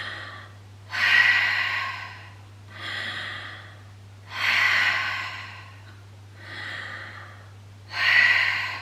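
Slow, deep breaths are drawn in low for singing and let out again, a steady rhythm of about six airy inhales and exhales heard close and alone over a faint low hum.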